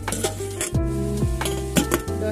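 Fish pieces dropped one by one into boiling curry gravy for a Bengali fish jhol with spinach; close bubbling and sizzling broken by several clinks and knocks of a utensil against the pot, no voices.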